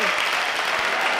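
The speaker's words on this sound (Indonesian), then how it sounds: "Tepuk tangan dulu." Sustained applause from an audience, loud and even, a dense wash of clapping with a few speaking voices mixed underneath.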